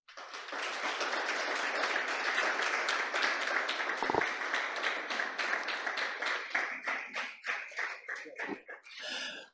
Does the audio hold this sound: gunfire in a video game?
no